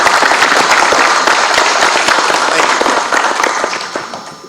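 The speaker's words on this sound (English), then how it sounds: "Kip, you really deserve a round of applause here for putting this together" A discussion-event audience applauds, a dense loud wash of many hands clapping that fades toward the end, with voices mixed into it.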